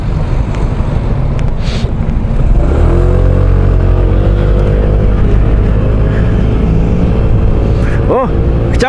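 A small engine hums and revs steadily with wind rumble, its pitch rising partway through, close to the microphone while riding.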